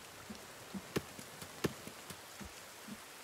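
Rain falls in the survival video game The Forest, a soft hiss of steady noise dotted with scattered, irregular drop ticks and a few sharper taps.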